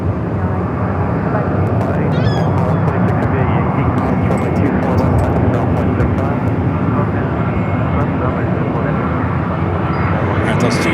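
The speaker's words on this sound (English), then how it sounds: "Alright, those two Dreamliners gonna cross over." Boeing 787 Dreamliner jets taxiing across a runway at Los Angeles International Airport, a steady loud engine roar and rumble that fills the scene from start to end, with people talking over it.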